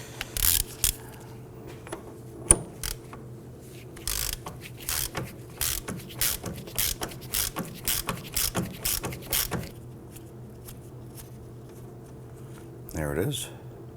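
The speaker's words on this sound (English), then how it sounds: "I'm going to try and switch over to our ratchet," Ratchet clicks and tool taps while loosening the brake drum nut on a 2008-2011 Ford Focus rear drum brake: irregular, close clusters of sharp mechanical clicks over a steady hum, with a brief rasping burst near the end.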